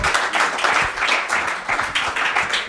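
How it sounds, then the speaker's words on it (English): A workshop audience in a conference room claps for an incoming presenter. The applause is moderate, with a steady patter of overlapping hand claps lasting a few seconds. "Give him a round of applause, everyone."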